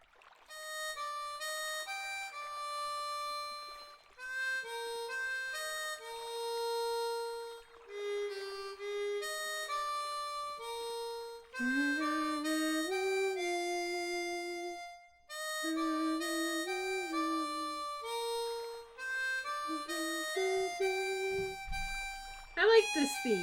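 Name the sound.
harmonica playing Whereabouts of Light in Trails in the Sky video game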